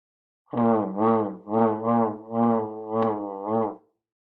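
A brassy, wavering tone sounds in six uneven pulses, wobbling in pitch like a shaky, poorly controlled trombone note.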